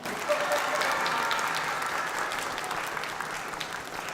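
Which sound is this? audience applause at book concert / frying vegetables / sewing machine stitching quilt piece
audience applause at book concert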